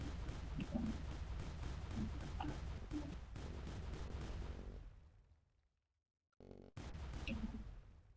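Bombs going off in the video game Haste Miner 3 make dense, rumbling blasts that rise to a steady roar, fade into a short silence, then return as another sharp burst followed by more booming, with no talk.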